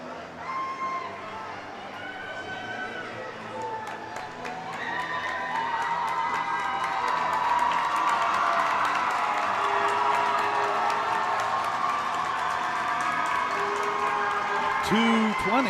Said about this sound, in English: Great crowd here tonight.